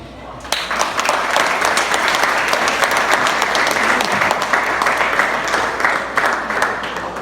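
An audience applauds at a live talk on social media and wealth creation, with dense, sustained clapping from many hands that starts abruptly and stays loud for several seconds.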